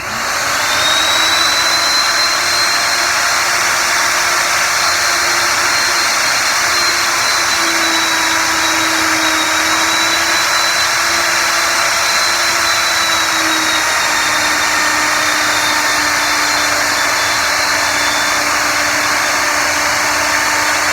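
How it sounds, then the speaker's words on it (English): Plunge router cutting a stopped dado in wood while guided along a fence, a steady loud high whine holding for about twenty seconds with a slight pitch dip partway, no talking. "I'm going to plunge about 1/8 of an inch inside of the cut, and I'll just move over to it"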